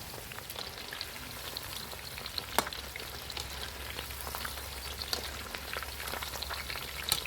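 Half a kilogram of Thai eggplant (makhuea pro) frying in hot oil, a steady close crackling sizzle with scattered pops and bubbling throughout, no voices.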